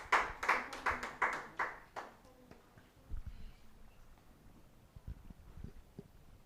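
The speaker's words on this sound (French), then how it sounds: "On acclame très très très fort." An audience at a tribute-to-women show claps in a quick steady rhythm as a small woman walks onto the stage, about eight sharp claps, then the clapping stops and leaves scattered quieter knocks and a murmur of voices.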